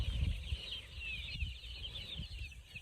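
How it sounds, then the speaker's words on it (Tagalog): Chicks and chickens roaming in an open yard, soft clucking and peeping chirps scattered over a faint background hum, nearby and fairly quiet. "Maghapon may activities yung mga sisiw natin dito."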